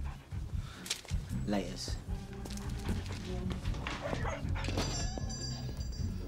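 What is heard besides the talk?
dog whimpering and barking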